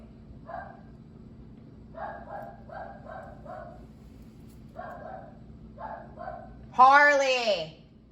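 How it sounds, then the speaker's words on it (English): A dog barks in short repeated bursts, several quick woofs spaced across the clip and then a longer, louder yelp-like bark near the end, heard fairly close indoors with no talking over it. "That darn dog."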